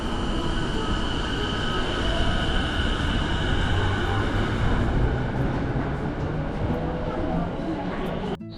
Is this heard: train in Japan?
yes